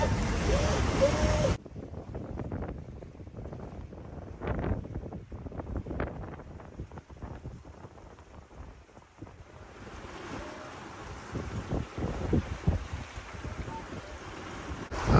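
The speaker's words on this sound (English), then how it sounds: "We just had a gust of 30 come through" Wind buffets and rushes past on open water aboard a sailboat, a 30-knot gust, with waves splashing against the hull; gusts swell and fade, loud and close to the microphone.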